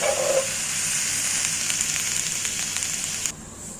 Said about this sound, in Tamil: பாருங்கள், நல்லா கொதிச்சிட்ருக்கு.